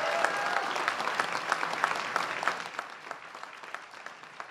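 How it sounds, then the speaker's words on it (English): Crowd applause fills a workspace at a political rally for a presidential campaign announcement, a dense steady clapping that stays loud and then thins slightly toward the end, with no voices over it. "let's give A&R Solar a big round of applause for allowing us to come into their workspace here"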